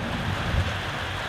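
Heavy rain hisses steadily, and a low thunder rumble swells briefly partway through, close and loud, with no voices.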